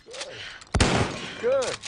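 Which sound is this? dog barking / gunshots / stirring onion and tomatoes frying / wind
gunshots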